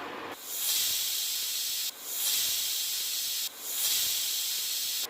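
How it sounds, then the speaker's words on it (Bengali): A pressure cooker on an induction cooktop whistles and vents steam while cooking ghugni, sounding as three loud, sustained hissing blasts separated by short gaps, close by and with no voices. "তিনটে সিটি হয়ে গেছে, এবার প্রেসার কুকার বন্ধ করে দেব।"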